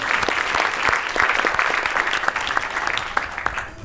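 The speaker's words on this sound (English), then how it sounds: "A round of applause for them." Dense applause from an audience at a science center groundbreaking ceremony, steady and sustained for about four seconds with sharp individual claps standing out near the end.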